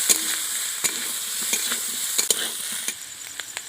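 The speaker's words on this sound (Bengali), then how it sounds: "এবার সেদ্ধ করে রাখা আলু দিয়ে দিচ্ছি। এবার ভালো করে কষিয়ে নেবো কিছুক্ষণ।" Boiled potatoes with ginger-garlic being stirred and fried in a pan, a steady close sizzle broken by repeated scraping strokes of a spoon, with no talking.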